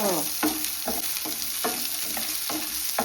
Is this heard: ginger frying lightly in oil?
yes